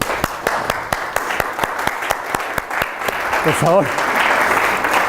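An audience in a lecture hall applauds at a public astronomy talk, a few sharp individual claps building into steady, loud clapping, while a voice speaks briefly over it in Spanish.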